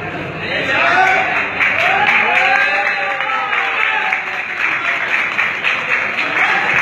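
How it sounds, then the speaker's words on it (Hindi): Audience clapping steadily through a bodybuilding contest in Sheikhupura, a crowd's applause running under an announcer's voice. "आपकी भरपूर तालियों में"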